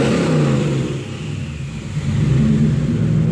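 An engine fitted with Holley Sniper EFI revs during a throttle test, a loud, close rumbling swell that dips and then rises again, with no voices.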